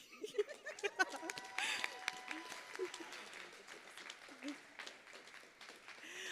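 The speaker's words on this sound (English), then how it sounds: "Let's give another round of applause for our graduates" Graduation crowd at a 2025 Village Academy ceremony applauding the graduates, a steady wash of distant clapping and scattered cheers that stays fairly faint, with voices mixed in throughout.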